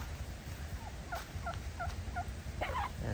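Several native turkeys gobble in a quick series of warbling calls on a farm, moderately close over a low background rumble.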